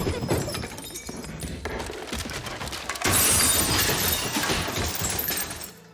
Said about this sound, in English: we finally get our first scare when the photos fall off the wall